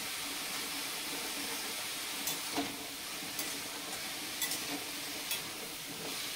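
Cabbage curry with turmeric and salt being stirred in a hot pan, a constant low sizzle broken by a few sharp spoon scrapes and taps, no talking.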